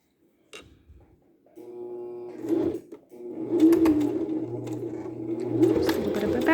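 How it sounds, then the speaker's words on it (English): A sewing machine back stitches an applique mug rug, close by, its motor whirring steadily with a brief pause midway before running on again, after a few light clicks at the start. "I am going to do a back stitch."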